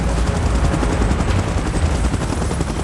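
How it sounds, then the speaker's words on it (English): A helicopter in the video game BGMI thumps loudly and close, its rapid rotor chop pulsing steadily over a dense, roaring engine wash for a few seconds. "Chopper in position."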